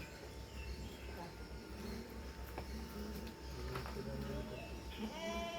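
A six-month-old kid goat bleats in short calls, one clearer cry near the end, heard over a steady outdoor murmur with faint insect hum and soft background voices.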